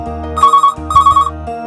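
A phone ringtone signals an incoming call on a call-in astrology show, two short electronic beeping bursts over a low steady music bed, clear and close.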